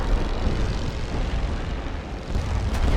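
Engines of Great War fighter planes in a World War One Western Front strategy game make a steady, loud, dense droning roar that stays unbroken throughout.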